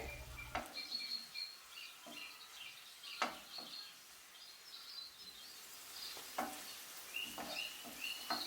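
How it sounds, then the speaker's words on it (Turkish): Soft sizzling of red and green peppers frying in a pan, with scattered clinks and stirring scrapes at irregular intervals, fairly quiet and close. "Kapya biberle yeşil biberi 3-4 dakika kadar kavuruyorum şimdi."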